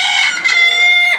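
A local Bangladeshi free-range hen lets out a loud, drawn-out nasal squawk after laying an egg, one sustained call that rises slightly and breaks off, close by.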